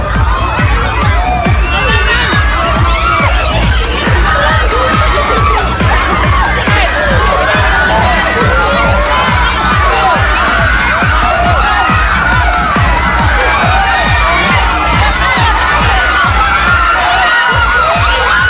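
A large crowd shouts and cheers continuously along Old Road in Barangay 58, a street setting, with loud overlapping voices, whoops and scattered bangs sustained throughout.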